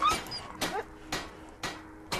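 A dog in the fantasy game Enderal gives a run of short, evenly spaced whimpers and yips, four soft bursts over a quiet ambient background.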